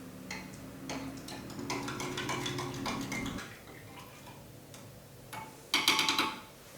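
A spoon clinks and rattles against a glass while stirring MRE orange beverage powder into water, with quick repeated taps, a pause, then a brief louder flurry of clinks.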